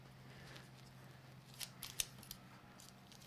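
Scissors make a few quick, crisp snips on card while crafting with Gemini dies. The cuts are close and faint, with short clicks spread over about two seconds against a quiet room hum.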